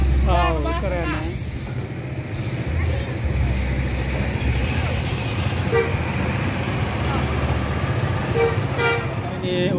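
A big bus passes on a road near the Ombilin bridge, its engine rumbling loud and close amid traffic, with a few horn toots and someone talking over it.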